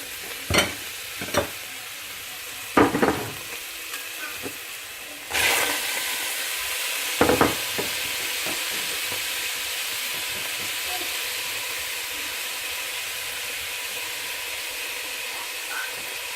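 Onion and carrots frying in a pot with a steady sizzle, broken early by several sharp clanks and scrapes of stirring, then a continuous loud hiss of frying.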